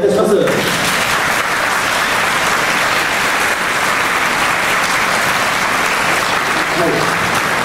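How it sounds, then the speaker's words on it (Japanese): Sustained, dense applause from a large audience at a primary school's 150th anniversary orchestra concert, loud and steady throughout, with a brief voice near the start and a little more near the end. "もう一度拍手をお願いいたします"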